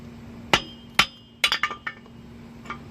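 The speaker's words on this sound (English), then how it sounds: "just hold this best you can and pound the rest of it, pound it the rest of the way out" A sledgehammer strikes a lower ball joint on a 2002 Mercury Sable, giving several sharp metallic clanks: two spaced blows, then a quick cluster of ringing hits, then a fainter final tap, close and loud with no talking.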